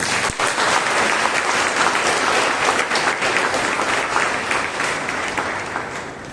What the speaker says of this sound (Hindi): जोर से ताली प्रभु के लिए।